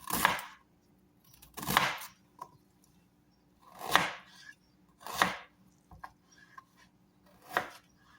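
Ginger is chopped on a board for a sweet and sour tuna dish: five or six crisp, widely spaced knife strokes, some with a short scraping tail, close up with quiet gaps between.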